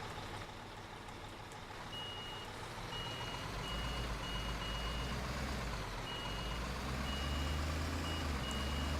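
Intermittent reversing beeps ring out from a truck backing up at a construction site in Construction Simulator 2015, sounding evenly over a steady, rumbling engine drone.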